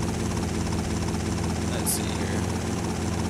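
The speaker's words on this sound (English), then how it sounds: "whenever you have to land the helicopter, be very careful" Helicopter rotor and engine drone from a helicopter landing in GTA Vice City Stories, a steady loud whirring with low thumping that holds throughout with no break, with a brief higher hiss near the middle.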